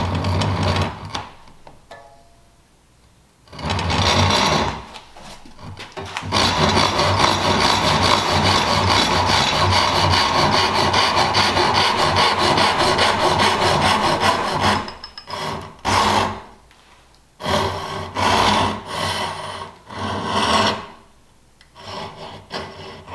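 A crosscut hand saw cutting wood for dovetail joints on a built-in bench seat, with a long run of fast, even rasping strokes, then shorter bursts separated by pauses, loud and close.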